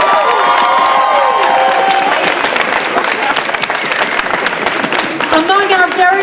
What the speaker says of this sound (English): I would also like to hear a big round of applause for our donors, our friends, and our supporters who are here tonight